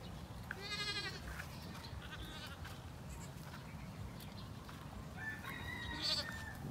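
Quiet outdoor scene with a few short bleats from goat kids and their mother, one near the start and more toward the end, over a low background rumble.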